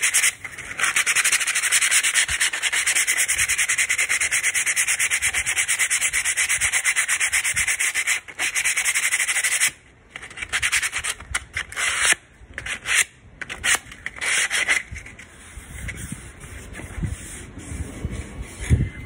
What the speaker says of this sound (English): Just working it back down to smooth, taking out any rough edges, rough patches